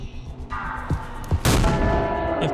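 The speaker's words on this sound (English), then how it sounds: "I don't know how many times I have to shoot him in this boss battle" Gunshots ring out during a boss battle in the video game Mouthwashing, a few sharp reports spaced apart and then a heavier sustained blast, loud and close over a droning game background.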